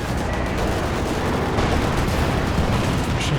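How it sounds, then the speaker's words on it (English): A Katyusha rocket barrage in Company of Heroes 2 battlefield combat, a loud, dense wall of overlapping blasts and crackling fire that rumbles continuously without pause. "Surviving the Katyusha rockets just fine"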